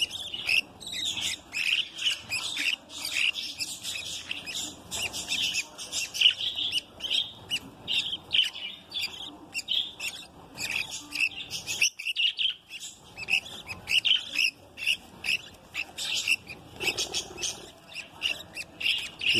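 Budgerigar parakeet chicks chirping constantly in a nest, a dense stream of high, rapid peeps and tweets close by with no pauses.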